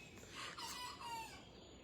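Roosters crowing on a backyard flock, one faint, distant crow rising and falling over about a second, with no voices, against a quiet outdoor background.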